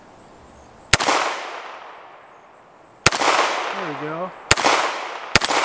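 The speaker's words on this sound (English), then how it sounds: "Let's do some more precision shooting here." Four sharp, loud 9mm shots from a CZ Scorpion fired at a steel plate rack, spaced unevenly with ringing decays between them, and someone speaks briefly between shots.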